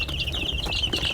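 Three-week-old free-range village chickens cluck and peep in a rapid, busy chatter, close and steady, with a little wing movement.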